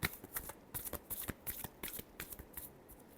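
Tarot cards riffle and slap together in a run of crisp, papery bursts, about a dozen quick shuffling strokes in steady rhythm, close and fairly quiet, with no voices.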